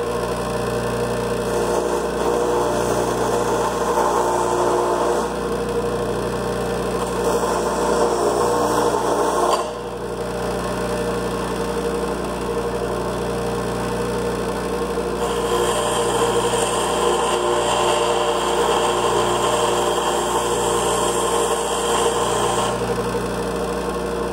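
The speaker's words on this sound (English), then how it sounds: "I might have to grind it some more though" A power grinder works on the cap of a GM/Delphi fuel injector from a 5.3 engine, a steady high whine running almost continuously with a brief dip midway, close and loud with no talk.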